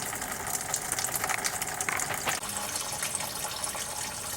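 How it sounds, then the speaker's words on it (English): Coolant drains out of a cut radiator hose on a 2002 Pontiac Grand Am, making a steady, splashing gush of liquid that runs unbroken and fairly loud. "Just let that drain for a while."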